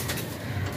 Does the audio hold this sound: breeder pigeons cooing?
yes